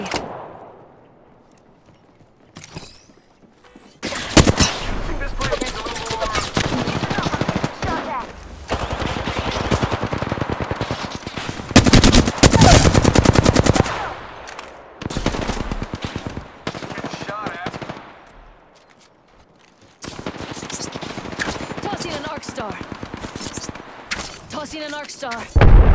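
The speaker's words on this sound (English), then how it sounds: "They're shooting at me." Bursts of automatic gunfire in the battle royale video game Apex Legends, loud and sustained in several long volleys separated by brief lulls, with a player talking at times between and over the shooting.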